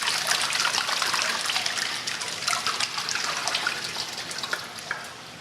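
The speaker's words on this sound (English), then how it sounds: "we simply take the whole tub and pour it into the mould" Curds pour from a whole tub through a distributing plate into soft cheese moulds, giving a steady wet splashing and trickling that runs continuously and fairly loud, tapering slightly at the end.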